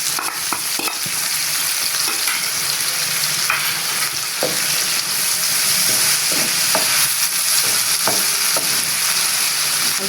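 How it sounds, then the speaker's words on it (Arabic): Grated carrot and sautéed peppers cooking in a hot pan, a constant sizzle with repeated scraping and tapping of a stirring utensil, close and clear, no voices. "بعد تشويح الفلفل هنحط كده، ننزل بجزر مبشور بالشكل ده."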